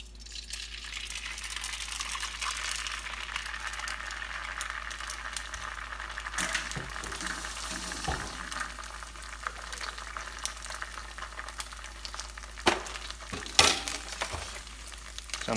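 An egg fries in hot oil in a new Stargazer cast iron skillet, a steady close crackling sizzle with scattered sharper pops and no talking over it.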